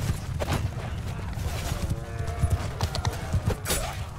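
Hundreds of horses gallop across a Mount & Blade II: Bannerlord battlefield, a heavy, steady rumble of hooves with faint whinnies and metallic clashes mixed in, loud and sustained.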